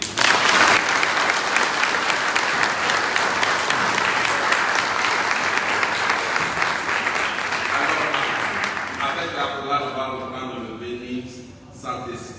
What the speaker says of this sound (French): On peut les applaudir.